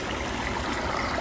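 Water pours steadily from a village tubewell near cauliflower fields, a dense, even rushing hiss close by with no pauses and no speech.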